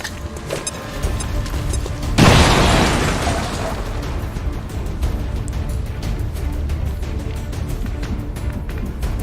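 A grenade blast in XCOM 2: War of the Chosen, one loud burst that rises abruptly and then decays into a long rumbling tail over continuous game background noise.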